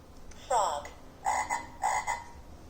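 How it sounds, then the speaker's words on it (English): Recorded frog croaks from a farm animal sound book toy, sounding as three bright raspy croaks spaced about half a second apart, the last two doubled, fairly faint with no talking. "The frog leaps up into the air."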